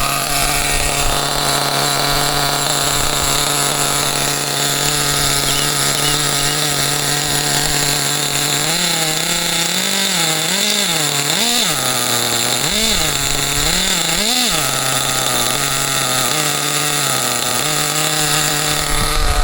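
A Hobao ST nitro RC car engine runs as it warms up, a loud, buzzy high-revving whine that holds steady, then rises and falls in repeated revving surges before settling.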